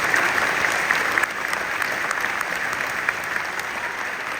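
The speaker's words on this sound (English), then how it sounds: "How about a round of applause for all those people?" A graduation audience at a culinary school commencement ceremony applauds the school staff, a full steady round of clapping that eases slightly after the first second and carries on evenly.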